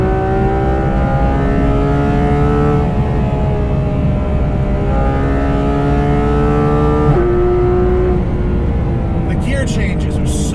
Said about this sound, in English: That's the first time I hit the rev limiter.